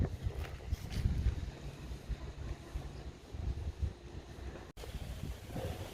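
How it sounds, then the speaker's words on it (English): Wind blows steadily outdoors on a cold day, a continuous low rumbling roar of gusts buffeting the microphone, fairly loud and unbroken apart from a brief dropout near the end. "Today is one of those days that the wind is just blowing all the time."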